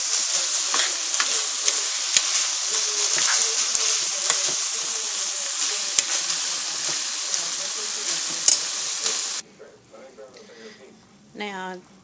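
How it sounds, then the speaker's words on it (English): Ground turkey, mushrooms, onions and peppers frying in a pan, a steady bright sizzle with scraping stirring strokes for about nine seconds, then the sizzle cuts off and a voice speaks briefly. "I'm going to give that a stir."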